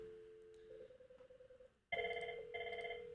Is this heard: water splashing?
no